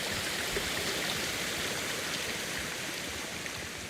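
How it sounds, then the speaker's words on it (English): Loud running water rushes steadily near a hot spring in the samurai game Ghost, a constant, close, hissing flow with no other sounds. "that is some loud running water"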